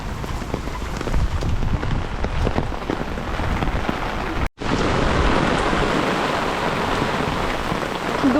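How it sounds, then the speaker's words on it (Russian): Heavy rain pours down steadily during a Korean monsoon downpour, a dense continuous hiss of drops striking surfaces, loud and unbroken apart from one momentary cut, with no voices. "Дождь капец льет."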